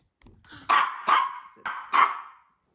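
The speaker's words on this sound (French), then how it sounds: "Ah désolé, ce petit chien m'agace." A small dog barks four sharp, close, loud times in quick succession, each bark a bright burst with short pauses between.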